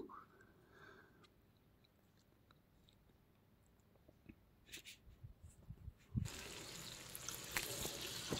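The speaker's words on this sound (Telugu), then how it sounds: "ఇందులోకి నేను టూ గ్లాసెస్ ఆఫ్ వాటర్ని యాడ్ చేసుకుంటున్నాను" A few soft clicks and clinks, then two glasses of water gush steadily into a pan while making Maggi noodles, splashing loudly for the last couple of seconds.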